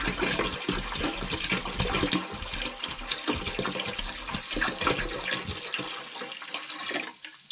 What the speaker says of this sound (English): Pour it inside that cylinder, and then the rest is just going to go inside the tank.